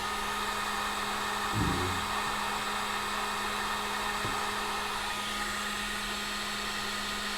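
A heat gun blows steadily while heating solder on a joint in the brake light wiring of a Kawasaki Z900RS motorcycle, a constant close whoosh with a couple of faint knocks and no talking.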